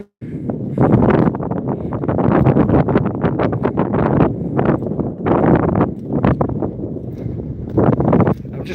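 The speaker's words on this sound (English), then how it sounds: "it's going to be windy though, guys, so you're going to have to bear the wind." Heavy gusty wind buffeting a microphone on a morning riverside walk, a loud continuous rumbling roar with fluctuating bursts throughout, nearly swamping the background.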